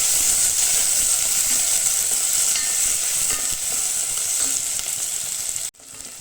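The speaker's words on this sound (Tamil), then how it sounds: "கருவேப்பிலை இதெல்லாம் சேர்த்துட்டு நல்லா வதக்கி வைக்கலாம்" Onions, green chillies and curry leaves sautéing in hot oil with mustard seeds in a pan, a loud continuous sizzle with stirring that drops off abruptly near the end.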